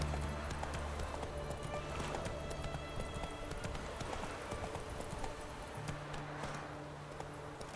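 A horse gallops in The Witcher 3 video game, its hoofbeats a steady rapid clip-clop over a low ambient hum, without any talking.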